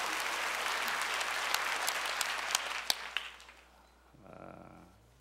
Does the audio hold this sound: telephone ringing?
no